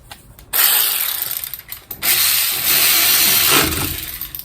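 Ratchet snugging a bolt on a 1997 Honda Civic axle, quick bursts of clicking pawl strokes in two or three close runs with brief pauses between, near and fairly loud.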